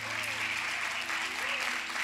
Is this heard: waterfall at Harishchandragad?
no